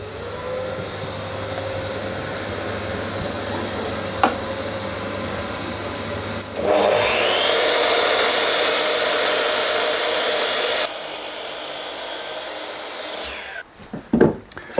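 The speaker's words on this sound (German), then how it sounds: "Absaugung an und dann wird gesägt." A miter saw whines up and cuts through wood for several seconds over a steady dust extractor hum, then spins down and stops with a few clunks.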